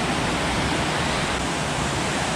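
Tad Kham waterfall in Nakhon Phanom, a dense, unbroken rush of falling water that stays loud and steady throughout, close by with no voices.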